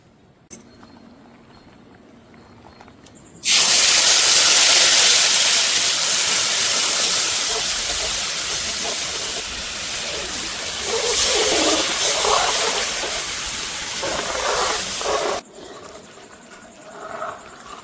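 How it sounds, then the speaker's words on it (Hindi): Loud, steady sizzling and hissing from gram flour tempering in a hot pan, starting abruptly after a quiet moment, continuing for about twelve seconds, then cutting off. "अब हम छोकन जा रहे बेसन सादा छोके हैं, तड़का लगाए हैं बाद में"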